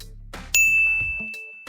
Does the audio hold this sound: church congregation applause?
no